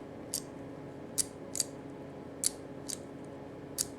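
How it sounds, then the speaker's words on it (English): A Geo Metro door lock cylinder being turned by hand, giving six sharp, separate clicks as it snaps back onto its ball bearing, close and crisp over a quiet background. "as I turn it, I've got a noticeable click when I come back on the ball bearing"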